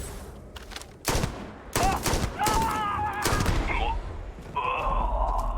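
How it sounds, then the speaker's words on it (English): Nova Blast energy weapons fire during a combat encounter in the Starfield video game, with a few sharp blasts followed by zapping, warbling bursts at close range. A player's voice talks intermittently over the gunfire. "What just hit me? Must be one of their Nova Blast weapons."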